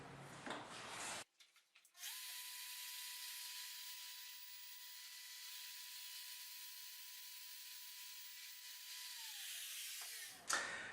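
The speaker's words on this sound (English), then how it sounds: "Turn on the plunge router, plunge it into the material, and work all the way around the shape" A plunge router cuts a heart-shaped inlay into wood. It starts up, holds a steady high whine for about eight seconds at close range, then winds down.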